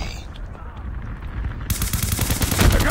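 Rapid automatic gunfire in the mobile shooter game Call of Duty Mobile, with loud close bursts that intensify after a short lull, thick and continuous near the end.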